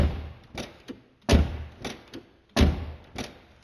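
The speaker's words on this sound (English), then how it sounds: "This is a heavy, real deal door, man." A heavy door on a 1989 Mercedes 560SL shuts twice, each a solid close thud with no rattle, followed by smaller latch clicks and knocks in between, loud and close with no talking.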